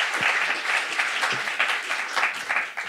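A crowd at a Freiburg science slam applauds Maike, sustained close clapping from many hands that swells and thins slightly before fading toward the end.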